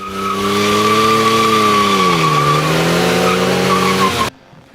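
A car driven in tight circles on a deliberately overinflated tyre gives a loud, sustained tyre squeal with a steady engine drone, the pitch dipping midway, then cutting off abruptly near the end.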